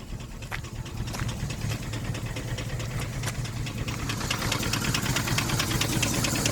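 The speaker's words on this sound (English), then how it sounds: "I'm going to see how long she holds herself in idle." A 2004 Dodge Durango 5.7 with overheating and leaking problems idles nearby, a steady low rumble with light ticking and faint knocking that holds throughout.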